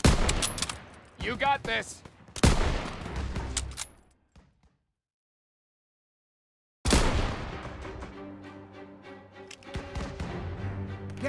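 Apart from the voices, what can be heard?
gunfire in the video game Call of Duty WWII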